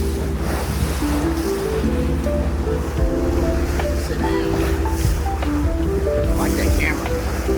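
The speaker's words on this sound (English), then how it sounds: "we're coming out into the Gulf of Alaska and the North Pacific Ocean" Open ocean swell in the Gulf of Alaska heard from a ferry deck, a loud constant rush of waves and wind buffeting the microphone, with the boat's low engine drone and some talk underneath.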